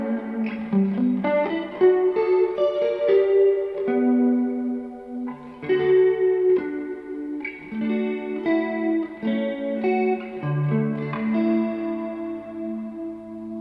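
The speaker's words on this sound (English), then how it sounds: "This is my chorus reverb setting." Clean electric guitar played through a Mercury X pedal on a chorus reverb setting, with shimmering, lush arpeggiated chords ringing out and overlapping in a steady flowing phrase, no voices.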